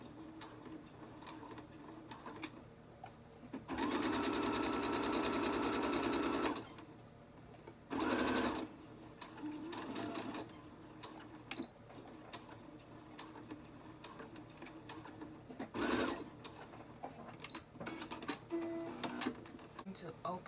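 A sewing machine back-stitching a party dress seam runs in two bursts, a steady whirring hum of about three seconds and then a shorter one. Quiet handling noises and faint talk fill the gaps between them.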